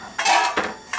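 A metal lid settles onto a cooking pot holding rice and water, giving a few quick close clinks and a short rattle of metal on metal.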